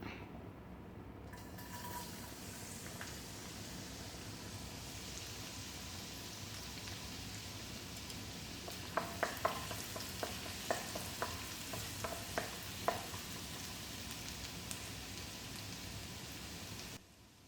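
Finely chopped garlic sizzles steadily in hot oil in a pan, a continuous close frying hiss with a run of small sharp crackles and pops partway through, no talk.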